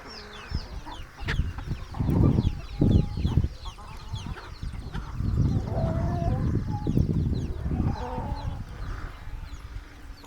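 A flock of chickens, hens and roosters, clucks continuously and fairly close in a shed shared with sheep, with overlapping calls and a busy, crowded background of farmyard bustle.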